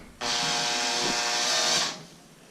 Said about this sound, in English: See if we can drill the center out because it's brass.